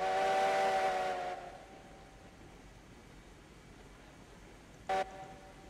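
Steam locomotive whistle in the video game Railroads Online, glitching: a loud sustained tonal blast with hiss that cuts off after about a second, then a brief clipped repeat of the whistle later.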